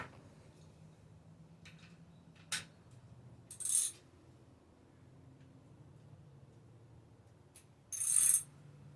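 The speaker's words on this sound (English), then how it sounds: "The best way to take those nuts off is to simply push straight down on the ratchet" Ratchet wrench working loose the axle nuts on a bicycle wheel, giving a few brief metallic clicks and two short ratcheting bursts, close and quiet, with no talk.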